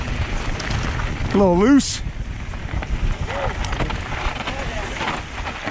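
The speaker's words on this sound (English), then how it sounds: "Good amount of wind up here." Steady rushing wind buffets a helmet-mounted action camera on a mountain bike descending high on a mountain, loud and continuous, with a person speaking briefly and a short whistling tone partway through.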